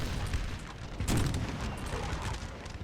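Cannon fire in Napoleon Total War, a Napoleonic-era battle game: a muffled boom lands midway through a dense, rumbling battlefield din of distant gunfire, with no talk.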